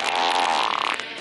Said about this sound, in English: There will be farts and stuff.